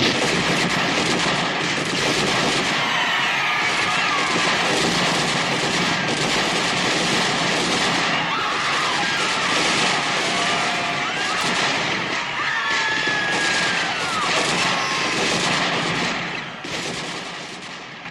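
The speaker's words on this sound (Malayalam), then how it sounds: "സായുധ സേനയുടെ പക്കലുണ്ടായിരുന്ന തോക്കുകൾ ഉണർന്നു. വെടിയൊച്ചകൾ മുഴങ്ങി." Dense rifle fire from armed troops shooting into a trapped crowd at the Jallianwala Bagh massacre, a continuous loud barrage of overlapping gunshots that rolls on for the whole stretch before easing slightly at the end.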